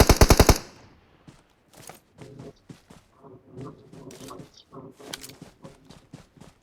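A short, loud burst of rapid automatic gunfire in PUBG Mobile opens, then scattered quieter shots and game noises continue while players talk over them.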